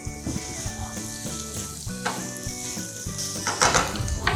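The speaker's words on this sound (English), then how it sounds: "I'm just gonna break this up right in here and allow it to render and cook down" Fresh Italian pork sausage meat sizzles and renders in a pan, a dense continuous frying hiss punctuated by scrapes and clinks of a utensil breaking up the meat, heard close with no talking.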